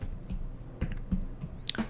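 Keys on a computer keyboard are tapped in a few quiet, irregular clicks at close range, with no talking.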